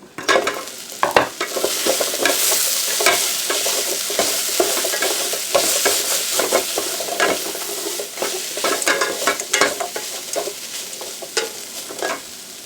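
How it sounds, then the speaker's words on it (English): Food with dry crushed thyme frying in a pot, steady loud sizzling and crackling close by, with repeated scraping stirs and knocks of a spoon against the pot and no talking. "let it fry for about 5 minutes"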